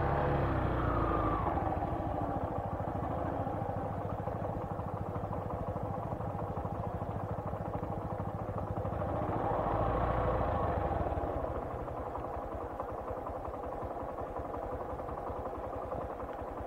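A motorcycle labors up a narrow hill road toward Garang Hill in Maasin, Iloilo. The engine drones continuously and close by for the whole stretch, swelling briefly as the throttle opens, then settles into a lower, even rumble.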